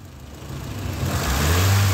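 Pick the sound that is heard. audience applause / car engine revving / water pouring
car engine revving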